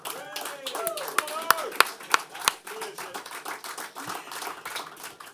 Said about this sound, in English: I think that the applaud is not big enough.